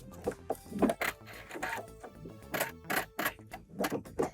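A sewing machine running a straight stitch along fabric a quarter inch from the edge, in short bursts of rapid mechanical clatter with brief pauses between, close and fairly loud with no talk.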